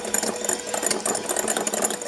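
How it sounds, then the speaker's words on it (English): A cordless hand mixer whips cream with a fast, close, rattling mechanical whir that pulses unevenly while the beaters churn. "I think there's enough oomph left in my mixer. By the way, this mixer is cordless"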